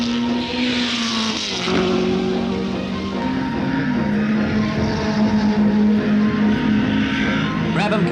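Racing cars at the 1961 New Zealand Grand Prix, the leader nursing a sick engine out of a hairpin, a sustained engine drone with shifting pitch as cars accelerate past, with a brief squeal of tyres.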